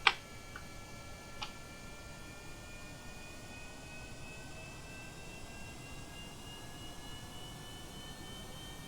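A simulated aircraft engine in a flight game drones as a steady, faint whine with rising tonal lines, after a single sharp click at the start and another soft tick a moment later.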